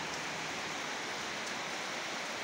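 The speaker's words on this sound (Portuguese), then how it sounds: "já tá chovendo" Rain falling in Ji-Paraná, Rondônia, and dripping through a roof leak, heard as a soft, steady, hissing wash of rainfall with no distinct drops and no talking.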